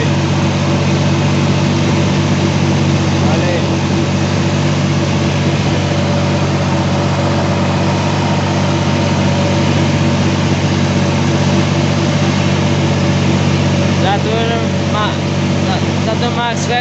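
A Valtra A950R tractor and a Massey Ferguson 4275 tractor harrowing soil in a field, a loud, steady diesel engine drone that runs without a break, close by.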